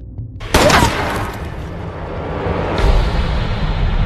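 Gunfire in a Purge film scene: one sharp, loud shot bursts out, then a long echoing decay, and a second fainter crack follows a couple of seconds later.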